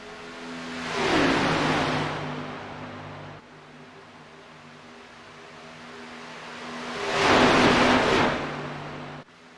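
Race cars from a racing video game sweep past in tandem twice, each pass a loud swelling roar that fades, with quieter engine hum between them and no voices.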